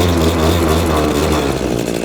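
A small MT250C engine fires and runs loud and close, with a steady harmonic drone that rises briefly as the throttle is blipped.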